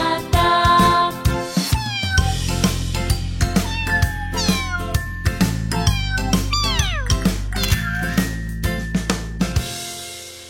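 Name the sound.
kittens meowing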